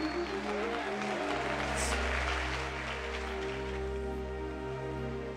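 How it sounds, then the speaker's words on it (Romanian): Wedding guests at a live band performance applaud the bride and groom, steady crowd clapping under sustained keyboard chords and a low bass hum. "noi cu toți îi aplaudăm. Aplauze pentru ei."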